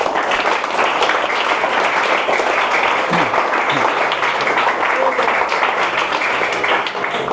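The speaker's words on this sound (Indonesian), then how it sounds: "Tepuk tangan buat kalian semuanya" Sustained applause from a hall of students at an Islamic boarding school general lecture, dense and steady throughout, loud and close, with some voices mixed in.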